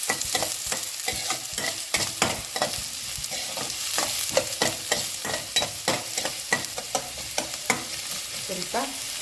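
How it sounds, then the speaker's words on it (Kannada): Chicken gravy base fries in a pan until slightly brown, with a continuous sizzle and quick, repeated stirring scrapes throughout. No one speaks over it. "ಸ್ವಲ್ಪ ಬ್ರೌನ್ ಆಗೋ ಥರ ಫ್ರೈ ಮಾಡ್ಕೊಳ್ಳೋಣ."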